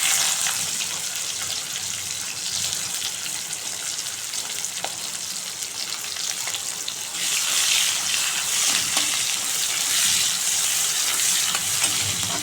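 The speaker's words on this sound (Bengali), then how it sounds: "পেঁয়াজটা একটু লাল লাল করে ভেজে নেব" Chopped onions frying in hot oil in a wok with a dried chili and bay leaf, a continuous loud sizzle that swells louder partway through, with occasional stirring scrapes and no voices.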